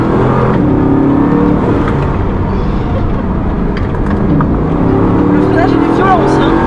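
A Bugatti Chiron of 1,500 horsepower accelerates hard with all-wheel drive and tyres slipping, a loud continuous engine roar and whir heard from inside the car, with people talking over it.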